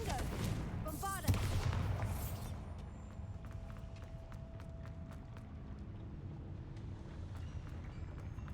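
Confringo and Bombarda curse spells cast in a video game, a sharp blast with crackling burst near the start over a short shouted voice, followed by a fading rumble and scattered ambient game effects.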